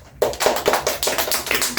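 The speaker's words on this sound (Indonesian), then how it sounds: "beri tepuk tangan untuk kelompok pertama" A small classroom group claps for the first group of pupils, quick uneven handclaps starting abruptly after a short silence and carrying on close and fairly loud to the end.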